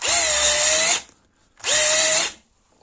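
A cordless drill on a homemade 12 V battery runs at high torque in two loud, steady whirring bursts of about a second each, separated by a short pause, with no talk over it.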